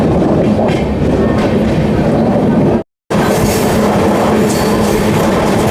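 Amrit Bharat Express passenger train on the Brahmapur–Udhna route running loudly on rails, with steady rumble and clickety-clack throughout and a brief silent gap midway.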